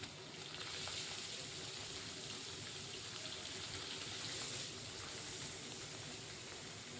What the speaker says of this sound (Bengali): তেলটাকে ভালো মতো গরম করে নিতে হবে। এবারে মাছগুলো আস্তে আস্তে দিয়ে দিচ্ছি।